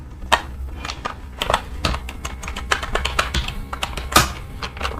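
Rapid, uneven clicks of a computer keyboard being typed on during work in accounting software, a dense run of sharp keystrokes with no talk over them.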